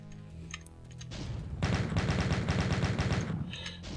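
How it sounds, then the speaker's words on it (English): A chain gun firing in Doom, a loud sustained rattle of rapid shots over booming low-end game sound, preceded by a brief quieter stretch. "I can reduce them, thin out the herd with a chain gun from afar."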